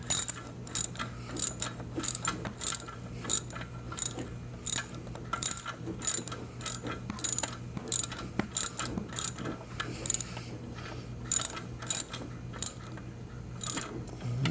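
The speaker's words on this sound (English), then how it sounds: "Got my 17 here. I'm just using a little swivel here to get them started." Ratchet wrench with a 17mm socket on a swivel clicks steadily as it tightens bolts during a 2.0 l engine and transmission swap on a Suzuki Forenza, a close, repeated rapid ratcheting rhythm in bursts with no talk.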